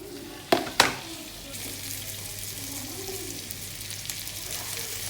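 Floured veal sweetbreads drop into a pan of hot butter and olive oil with two quick splashy impacts, then settle into a steady close sizzle.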